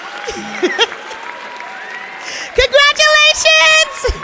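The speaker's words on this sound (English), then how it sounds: "we can take a moment to clap" Applause from an audience at a school graduation ceremony, scattered clapping and crowd noise running under a speaker's amplified voice, with louder bursts of talk breaking in near the end.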